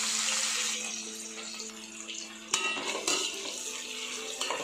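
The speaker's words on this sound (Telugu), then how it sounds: "ఇంకా ఆనియన్ వేస్తున్నానండి." Onions are added to hot oil in a pan for a Hyderabadi-style chicken biryani, with a soft hiss of frying and a few close clinks of a utensil against the pan.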